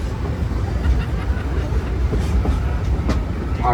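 A Georgetown Loop narrow gauge train runs steadily on the Silver Plume to Georgetown line in Colorado, giving a continuous close rumble with faint rail clatter and a brief squeal near the end.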